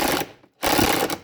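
A ratcheting tool undoes a fuel tank bolt under a Land Rover Discovery 2 Td5, two close bursts of rapid mechanical clicking separated by a brief pause.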